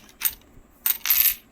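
Victorian half paisa coins from 1862 clink together as they are handled, two quick bursts of close metallic jingling in quiet surroundings.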